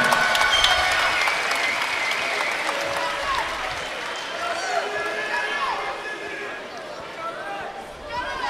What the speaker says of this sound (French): applaudissez les deux boxeurs là